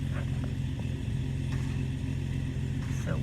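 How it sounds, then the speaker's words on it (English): A truck idles close by after pulling up, giving a steady, loud low engine rumble that holds at the same level throughout and drowns out faint background sounds. "this truck just pulled up next to me, and he's gonna probably park right there and keep his little motor rolling"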